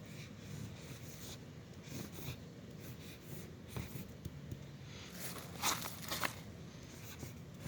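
An MTN marker scrawling a graffiti tag, faint scratchy squeaks and rubbing strokes in short bursts with a few sharper swipes near the end, close and quiet, no speech.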